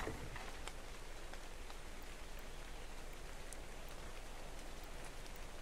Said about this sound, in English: The snow, and then it's going to change over to rain in a moment.